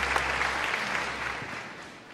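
A church congregation applauds during an evening service, a dense, loud wash of clapping that gradually fades over about two seconds, with no speech over it.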